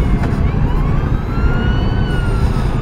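Police car siren wailing close by during a traffic stop on a motorcycle, with sweeping rising and falling tones over loud engine and road rumble, steady throughout with no talking.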